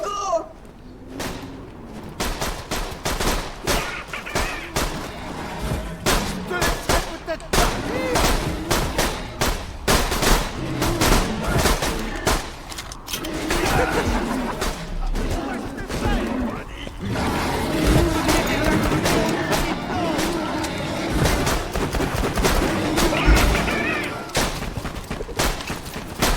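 Rapid bursts of gunfire from the video game Borderlands 2 crackle almost continuously, overlapping one another with a dense, busy texture, while voices talk over the shooting.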